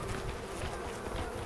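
Bees buzzing in the prehistoric video game Far Cry Primal, a dense, steady droning swarm sound that stays loud and continuous for the whole moment.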